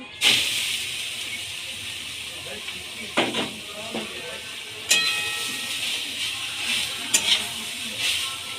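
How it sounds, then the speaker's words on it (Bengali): Grass pea greens frying in a wok after cumin and dried chilli, with a hissing, steamy sizzle throughout and several sharp louder bursts as the leaves are tossed and stirred. "এবার আমি ওর মধ্যে শাকটা দিয়ে দেব।"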